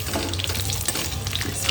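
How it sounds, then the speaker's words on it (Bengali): Rohu fish fries in a moong dal besan batter, a close, steady sizzle and crackle of hot oil with faint stirring and clinking, no talk. "মাছটা আমার ভাজা হয়ে গেছে লাল লাল করে।"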